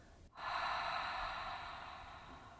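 A soft, controlled inhalation through the nose during a seated chair-yoga breathing exercise: one smooth, breathy intake that swells quickly and then slowly fades, close and quiet, with no talk.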